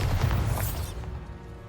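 A Bombarda spell explosion in Hogwarts Legacy: a loud, deep booming blast with heavy low rumble that fades into a ringing tail over about a second, with no talk.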